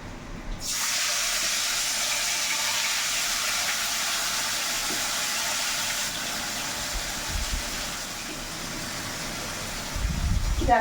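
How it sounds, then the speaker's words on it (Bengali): Chicken sizzles in hot oil in a pan while meat khichuri is being cooked. A steady, close frying hiss starts abruptly and carries on continuously, with a few low clatters near the end. "তেলের মধ্যে চিকেনটা কষিয়ে দিচ্ছি"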